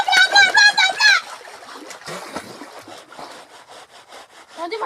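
Someone jumps into river water, giving a short broadband splash and sloshing after excited shouting and voices from people on the bank; the splash is close and moderately loud.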